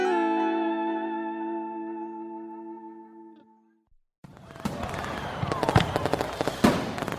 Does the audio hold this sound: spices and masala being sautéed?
no